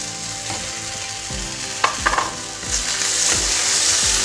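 Julienned potatoes sautéing in a pan with carrots and chili peppers, a steady close sizzle with occasional stirring scrapes and clicks of a utensil.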